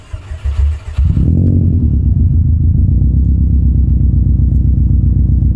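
An engine cranks briefly after stalling from running too rich during ECU tuning, then catches and runs steadily with a loud, rhythmic, slightly uneven rumble.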